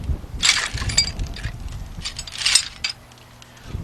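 Metal clinks and ratcheting clicks of a 14mm wrench working on a bolt of a Lexus LS460 upper control arm, close-up bursts with short pauses between.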